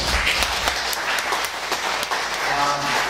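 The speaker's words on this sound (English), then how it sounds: "Give yourselves a round of applause, please." Audience applause at a Windsor Spitfires coaches breakfast, a steady wash of clapping from a room full of people with a few sharper claps standing out, continuous and fairly close.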